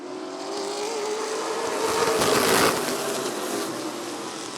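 NASCAR late model race cars on the Rockford Speedway oval roar past, engines swelling to a loud peak as the pack passes and then fading with a steady droning whine.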